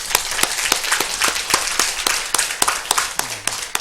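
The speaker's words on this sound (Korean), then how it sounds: "다 같이 하나님께 영광의 박수를 한번 올리겠습니다." A Korean church congregation at a Sunday service claps together in a steady, rhythmic beat, sharp unison claps repeating roughly every quarter second, close and clear with no talking over them.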